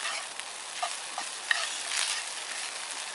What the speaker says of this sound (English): Frying up nicely as well.